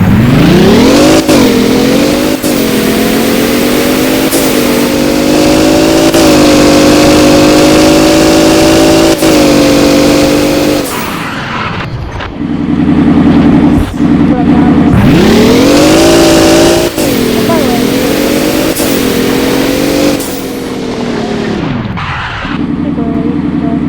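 A truck engine revs hard in long rising and falling sweeps, loud and close, with a brief lower idle-like stretch in between before climbing again.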